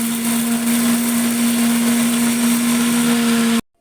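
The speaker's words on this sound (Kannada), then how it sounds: "ಫ್ರೈ ಮಾಡಿಕೊಂಡು ಈಗ ಮಿಕ್ಸಿಗೆ ಹಾಕ್ಕೊಂಡು ರುಬ್ಕೋಬೇಕು." A kitchen mixer grinder whirs loudly and evenly as it powders dry-fried fenugreek and curry leaves for tomato pickle, a constant motor whine that cuts off abruptly at the very end, with no speech.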